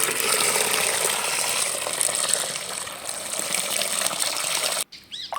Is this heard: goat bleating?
no